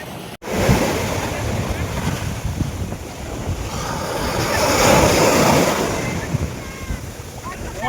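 Sea waves wash onto a beach at Vizag, where the sea meets nearby hills, in a continuous rushing surge that swells midway, with heavy wind buffeting the microphone throughout.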